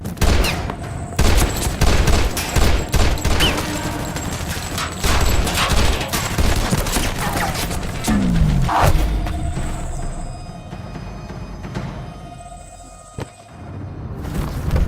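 Movie gunfire from stormtroopers fills the clip with a dense, continuous barrage of rapid shots and impacts, loud and sustained, with a brief whistling sweep partway through and a short dip near the end.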